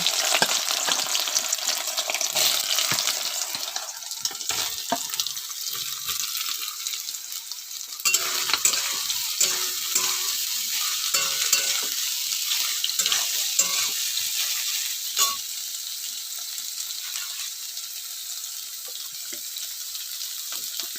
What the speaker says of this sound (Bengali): তেল গরম হয়ে গেছে, সয়াবিন প্রথমে ভেজে নেব।